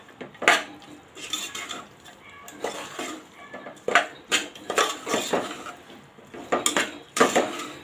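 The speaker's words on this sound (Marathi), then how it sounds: "एखाद मिनिट हे मसाले सर्व परतून घ्यायचे आलं लसूण पेस्ट वगैरे आपण टाकलेली आहे" A metal spoon stirs and scrapes spices and ginger-garlic paste sautéing in oil in a pan for matar pulao, giving irregular clinks and scraping bursts up close with no talk.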